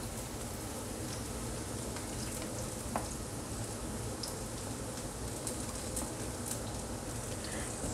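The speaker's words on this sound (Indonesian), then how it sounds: "Kita goreng sampai harum ya." Green beans and tempeh stir-frying in a pan give a steady crackling sizzle throughout, with a few light clinks of stirring, close and even in level with no talking.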